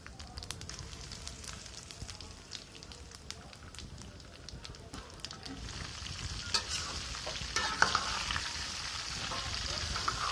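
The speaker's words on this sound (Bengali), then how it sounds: "এরপরে আমি ফোড়নে দিব জিরা, তারপরে দিব হচ্ছে শুকনো লঙ্কা, তারপরে দিব হচ্ছে এলাচ, দারুচিনি এবং কাঁচামরিচ।" Cumin, dried chilli, cardamom, cinnamon and green chilli tempering in hot oil for a vegetarian curry. A steady sizzle with scattered stirring scrapes builds louder toward the end, with no talking.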